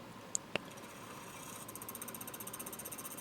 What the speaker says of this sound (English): Using the Longworth chuck to reverse it and take off the tenon.